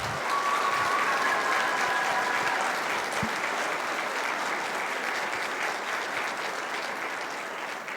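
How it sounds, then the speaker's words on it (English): Audience at a middle school honors music festival gives a big, loud round of applause for the student musicians, dense sustained clapping with a few whistles, continuing evenly throughout. "I do want another huge round of applause to the kids sitting up right in front of me"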